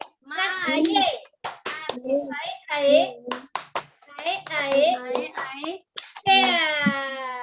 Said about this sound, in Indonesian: Ayo kita tepuk semangat lagi yuk